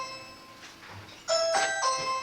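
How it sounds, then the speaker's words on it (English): A doorbell chimes indoors in a quiet room, coming in at mid-distance with a couple of ringing tones after a short stretch of near-silence. No one speaks. "sorry about the doorbell"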